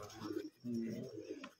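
A black-faced fancy pigeon coos softly in two low, throaty phrases, fairly faint with light background noise.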